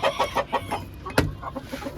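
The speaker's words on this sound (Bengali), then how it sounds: "দেন এদিকে আমার আবার আছে বিনিঝুটির মোরগ আর 2টা পাহাড়ি মুরগি" A crested rooster and two hill hens on a quail farm cluck in short, repeated bursts close by, with one sharper squawk partway through.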